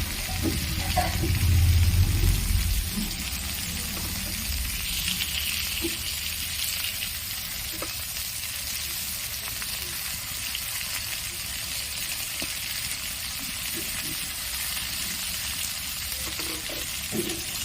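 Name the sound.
frying pointed gourd (potol)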